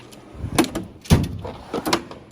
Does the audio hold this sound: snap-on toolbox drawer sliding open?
yes